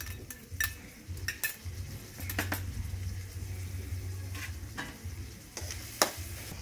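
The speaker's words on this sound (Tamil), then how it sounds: "இங்கே பாருங்க நெக்ஸ்ட் வந்து நான் டொமேட்டோஸ் ஆட்" Tomatoes go into a pan for chicken gravy and get stirred, giving a low steady sizzle of frying under repeated metal spoon scrapes and clinks against the pan, close up with no talking.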